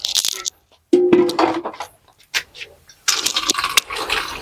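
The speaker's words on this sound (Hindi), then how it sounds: "ये धो रही है प्रमिला जी" Clothes being washed by hand with water at home, with splashing, sloshing and wet fabric being wrung and slapped in uneven bursts, close by, while a person talks over it.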